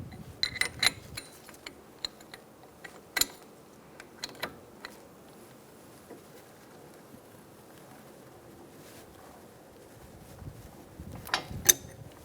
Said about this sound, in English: We're going to hold the other end still as we do that so that it doesn't swivel with